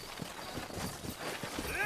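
Rhythmic horse hoofbeats clip-clop at a steady trot, close by, with a voice speaking over them, in the video game Red Dead Redemption.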